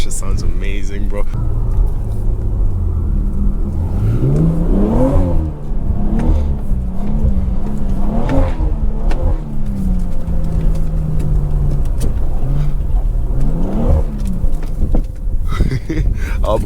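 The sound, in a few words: BMW 340i engine revving while drifting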